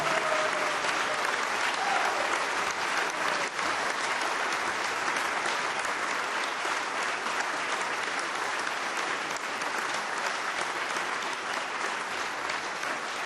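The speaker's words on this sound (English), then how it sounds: "you all deserve the applause for this." Sustained, steady applause from a large audience at a governor's State of the Commonwealth address in Kentucky continues without a break, dense and even.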